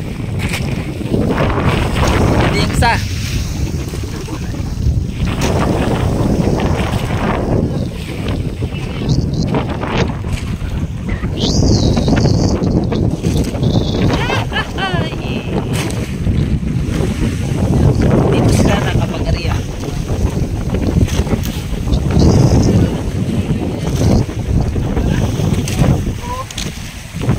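A fishing boat's engine runs steadily at sea in the Philippines, a continuous low drone mixed with wind buffeting the microphone and waves, while people talk intermittently over it.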